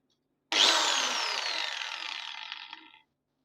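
A Black+Decker angle grinder switches on abruptly and runs with a loud, steady high-pitched whine, its pitch drifting slightly as it spins before cutting off after about two and a half seconds.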